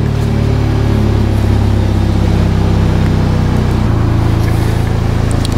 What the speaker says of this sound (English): There is a bit more of a burble out of it, but it's pretty subtle right now.